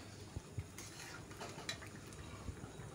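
Eggs fried earlier are added to a pot of simmering red lentil dal, bringing soft stirring and a few light clinks of utensil against the pot over a low bubbling background, with no talk.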